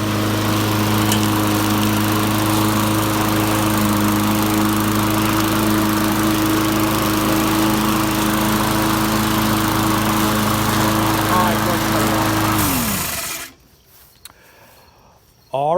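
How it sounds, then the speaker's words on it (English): A True Value Lawn Chief 21-inch lawn mower runs at a loud, steady drone for about thirteen seconds, then winds down and cuts out, leaving near silence. "Here is another lawnmower, True Value Lawn Chief 21-inch."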